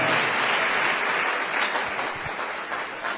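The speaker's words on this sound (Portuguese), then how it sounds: "Vamos aplaudir o Senhor Jesus" A church congregation applauds in a continuous round of clapping that stays strong, then eases slightly toward the end.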